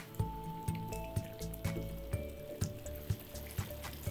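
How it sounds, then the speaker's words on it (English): A pot of vegetarian Thai green curry with vegetables and kaffir lime leaves bubbles gently, soft pops and blips recurring at a fairly regular pace, close and quiet. "The curry is bubbling, the vegetables are done."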